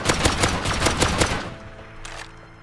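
Gunfire with explosive ammo during a base raid in the video game Rust, a rapid burst of sharp repeated shots for about a second and a half, then fading to quiet.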